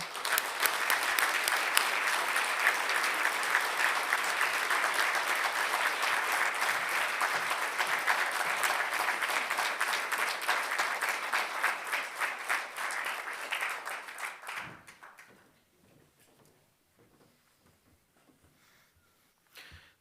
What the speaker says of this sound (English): Let's all give a round of applause to Robert Costa.